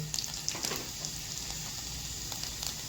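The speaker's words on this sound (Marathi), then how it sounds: "मोहरी तडतडली की लसूण टाकून घ्यायचं" Garlic frying in hot oil with crackling mustard seeds in a home kitchen, a steady close sizzle with a few sharp pops and spits near the start and scattered through, no talking.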